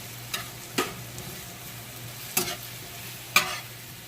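Mushrooms frying in margarine are stirred in a pan, giving four separate scraping stir strokes over a low, steady sizzle.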